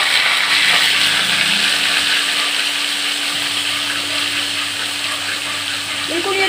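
Garlic and ginger sizzling in hot oil in a pan while cooking pulao and chicken: a steady, bright, hissing crackle that runs unbroken throughout.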